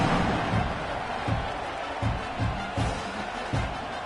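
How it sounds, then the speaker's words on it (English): A stadium crowd in a college football video game keeps up a steady, dense roar, with rhythmic low thumps pulsing under the broad noise. "this crowd is buzzing after that last score"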